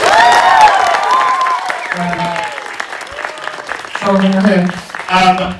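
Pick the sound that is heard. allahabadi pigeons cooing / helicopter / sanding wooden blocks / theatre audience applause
theatre audience applause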